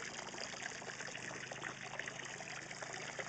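Water from a flowing well pipe in the ground pours into a tank outdoors, a steady soft trickle and splash continuing evenly throughout, faint and alone without voices.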